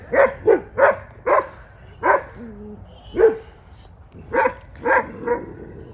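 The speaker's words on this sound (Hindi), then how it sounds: "हाइनास, ये भी जंगली कुत्ते, आई मीन वाइल्ड डॉग्स" African wild dogs fighting at a lion park game lodge, a run of sharp, loud barks and yelps in quick bursts, about ten calls over several seconds, with a brief whine between them.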